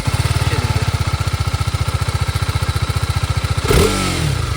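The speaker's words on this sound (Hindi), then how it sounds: "भाई बाइक स्टार्ट करना ज़रा," A 2025 TVS Apache RR310 motorcycle engine cranking with a rapid, even starter chug up close, then catching and firing into a brief rev before settling, with no voices.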